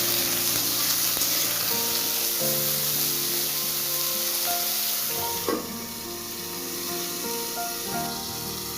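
Salted eggplant fries in a pan with a steady hiss and sizzle, continuous and close, a brief clatter midway before the frying settles slightly quieter, no voices.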